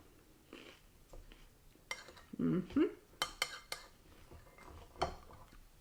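Crunchy bites and chewing of a Waldorf salad, with cutlery clinking on a dish in irregular close bursts, quiet between the sounds.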